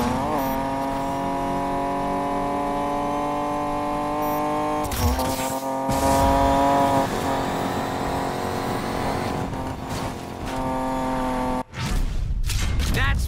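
A maxed-out drag car in the Need for Speed Payback video game revs hard through rising gear-shift sweeps, with tire noise and brief breaks between shifts, loud and continuous under game music.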